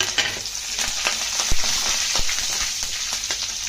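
Curry leaves and dried red chillies fry in hot oil for a tempering, a close, busy crackle and sizzle with sharp pops and spoon knocks against the pan, and no talking.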